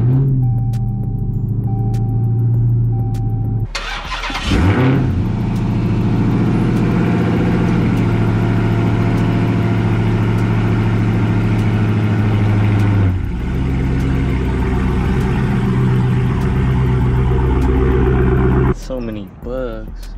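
A Dodge Hellcat's engine idles with a deep, steady rumble up close as the car is pulled out, the note shifting a few times with brief revs and gear changes.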